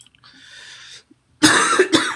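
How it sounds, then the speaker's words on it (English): A person coughs sharply twice in quick succession, loud and close, after a soft breathy sound. "Sorry about my cough."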